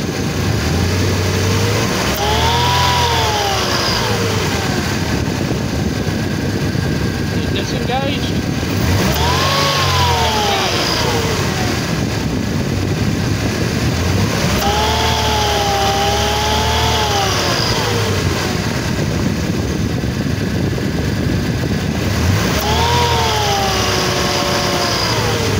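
A pre-Evo Mercedes-Benz M111 engine with a belt-driven supercharger and its clutch pulley revs up four times over a steady close idle, each rise swelling and falling back, with the engagement of the supercharger clutch under load.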